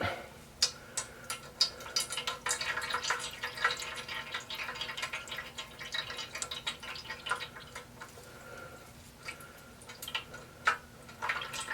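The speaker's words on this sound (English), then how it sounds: "Squeeze, squeeze, squeeze, and you can hear the water coming out." Water dripping and trickling as a ricotta cheese ball is squeezed by hand, a close, steady patter of small drips and splashes with sharper drops scattered throughout.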